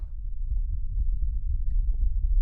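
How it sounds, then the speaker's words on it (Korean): A muffled, low heartbeat throbs in a horror video game, quick repeated thumps forming a steady pulse under a dull hum, with no talk over it. "두근두근두근두근 이런 소리 엄청 작게 들려요"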